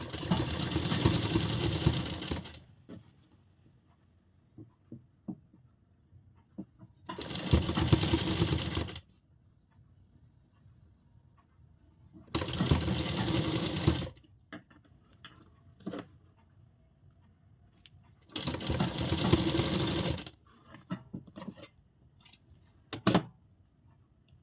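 Four loud, even bursts of a sewing machine stitching white lace onto an angrakha umbrella frock, each run lasting a couple of seconds, separated by near-silent gaps with faint clicks.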